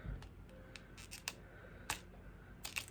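Scissors snip through paper for a pumpkin spice shaker card, a few short crisp cuts spaced irregularly at close range over a quiet background.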